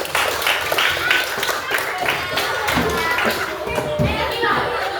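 A classroom of children claps together during a lesson, a quick, uneven burst of hand claps close by, mixed with excited kids' voices and chatter.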